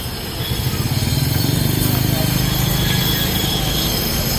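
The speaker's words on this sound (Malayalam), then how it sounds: "Thanjavur railway station" A train rumbles and clatters nearby at Thanjavur railway station, with a steady rhythmic thump of wheels on rails, loud and continuous.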